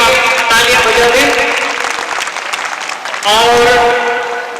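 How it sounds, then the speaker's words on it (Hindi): Loud, close audience applause at a school prize-giving ceremony, sustained clapping that thins and then surges again near the end, with no voices over it. "इनके लिए आप तालियां बजा दें"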